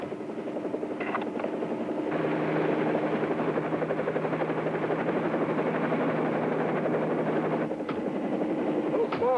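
A helicopter flying in a 1950s television adventure drama, its steady rotor chop and engine drone holding loud and close for most of the stretch, with brief voices at the edges.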